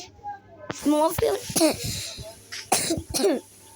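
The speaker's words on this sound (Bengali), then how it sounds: "অফ ক্যামেরা অনেক কাজ করেছি, একটু কাশি তো হয়।" A person coughs and clears their throat in several rough, close bursts, a few harsh coughs spaced irregularly over a few seconds.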